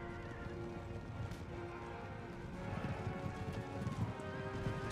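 Hussar cavalry horses in Empire: Total War battle gameplay: a dense mass of galloping hoofbeats and repeated neighs, steady and busy throughout, growing slightly louder toward the end.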